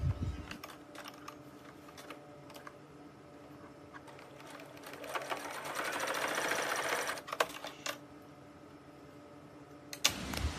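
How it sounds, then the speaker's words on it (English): Sewing machine top stitching along the edge of a child-size apron: a steady mechanical whirring run that swells louder in the middle, framed by softer clicks and handling noises before and after. "I'm just going to top stitch right there on the edge, about 1/8 of an inch in"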